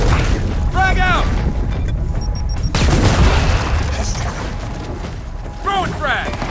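Gears of War 4 combat: a frag grenade bursts with a heavy boom amid dense, rattling gunfire and bursts of fire, while voices shout over the battle.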